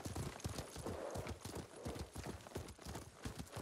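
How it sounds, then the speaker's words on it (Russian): Horse hooves clip-clop steadily in the video game Ghost of Tsushima, a quick continuous rhythm of close footfalls over a dense noisy background. "Ой, моя лошадка, мой Каги. Пришел за мной."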